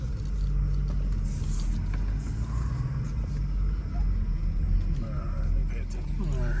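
A Mercedes-Benz SL500 backing up, its engine a low steady rumble close by, with someone talking over it.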